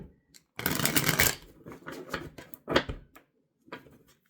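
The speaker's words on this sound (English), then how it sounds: "you can skip ahead if you don't like watching the shuffling" Tarot cards being shuffled by hand, a dense riffling burst followed by several shorter flicking, slapping shuffles with brief pauses between, close and clear with no talk.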